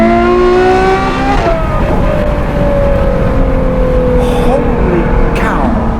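Black Novitec-tuned Ferrari 812 GTS supercar engine revving loud and close, pitch climbing and falling through gear changes as the car accelerates past, with voices underneath.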